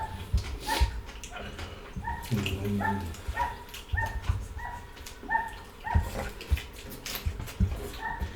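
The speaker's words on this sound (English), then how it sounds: "If you hear dogs, we have a lot of dogs in this neighborhood." Neighborhood dogs bark, yip and whimper in short repeated bursts at mid distance, mixed with people talking nearby.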